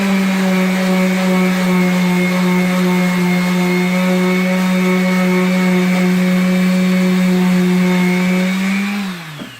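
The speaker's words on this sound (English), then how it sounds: "when you're sanding, go with the grain of the wood" A loud, steady electric sander with 60-grit sandpaper on wood drones with a constant whine for several seconds, then winds down abruptly at the end.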